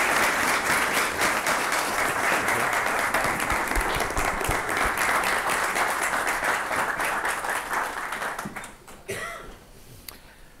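A lecture audience applauds to welcome Sinclair Black: dense, sustained clapping from a full room that thins and fades out near the end, with a stray cough.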